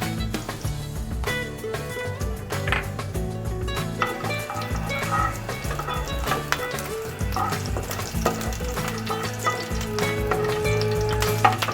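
Continuous frying crackle of black sesame seeds in hot oil with clinks and scrapes of a utensil against the pan, fairly close and busy throughout; no talking.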